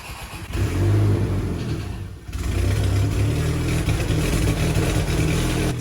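A VW GTI engine cranks and fires up after its crusty intake valves were walnut-blasted, settling into a loud, slightly rough idle with a brief dip before revving steadily, close up with no talking.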